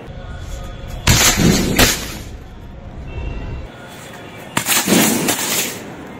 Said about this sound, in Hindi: आपको कैसा लगा ये मिया बीबी वाला पटाखा